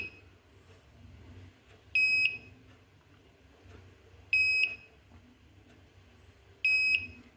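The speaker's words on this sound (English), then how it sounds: "and thus the buzzer beeps." Electronic buzzer in a social distancing detection project beeping three times at regular intervals, loud shrill tones over a quiet hum.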